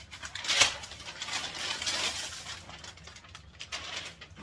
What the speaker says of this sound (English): then sometimes I use this packing paper.